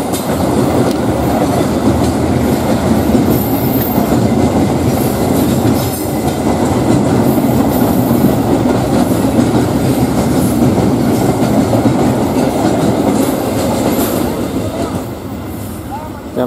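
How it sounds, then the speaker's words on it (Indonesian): A freight train carrying container wagons rolls past at close range on an Indonesian rail line, a loud, steady rumble of wheels and clattering cars that holds for the whole stretch and eases slightly at the end. "VC201 bawa kereta kontainer ini"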